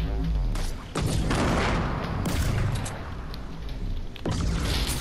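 A grenade blast in the Fortnite video game, a loud booming burst with heavy crackling gunfire-like bangs filling the whole stretch, sharp renewed impacts partway through and near the end.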